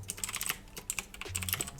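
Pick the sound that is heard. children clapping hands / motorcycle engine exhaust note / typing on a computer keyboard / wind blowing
typing on a computer keyboard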